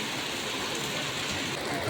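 Steady rain falls outdoors, a continuous, even hiss of drops at moderate loudness with no break across the short stretch.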